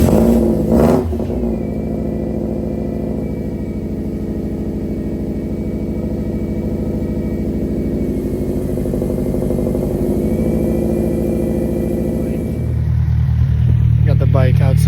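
A Baja motorcycle engine cold-starts with a brief cranking burst, then settles into a loud, steady, close idle drone before picking up slightly in a rev near the end.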